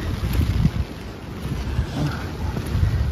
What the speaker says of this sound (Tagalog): Umuulan. Ang lakas pa ng hangin.